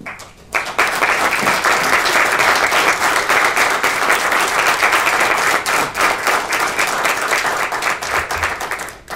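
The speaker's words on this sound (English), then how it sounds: "I would like to also recognize the people in the room who deserve a round of applause." Loud, sustained applause from a room full of people at a community award ceremony, honoring the winners' parents and families, with dense continuous clapping that holds steady for about nine seconds.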